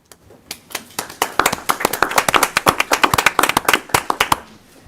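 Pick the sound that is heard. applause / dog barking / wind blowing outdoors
applause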